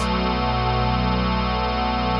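A thick, sustained wavetable synth note with a gentle chorused shimmer from several slightly detuned unison voices, steady and loud throughout.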